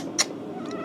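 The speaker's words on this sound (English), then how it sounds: "An infant Compesian power cat." A cat, cast in a sci-fi fan film as an infant alien power cat, gives one short, clear meow over a steady background hum, with a fainter trace of sound a moment later.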